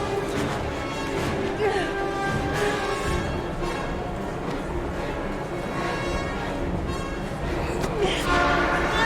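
A train in the video game Heavy Rain rumbles loudly and continuously at close range, with metallic rattling and a few sharp clanks over a dense, roaring wash.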